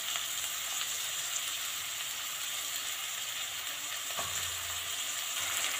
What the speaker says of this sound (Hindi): हम सारे प्याज डाल दिए, हम इसे अच्छे से भूनेंगे।